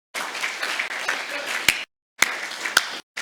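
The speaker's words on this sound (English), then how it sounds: "Big round of applause." An audience at a panel debate applauds a speaker in bursts that cut off abruptly twice, with a few sharp claps standing out from the dense clapping.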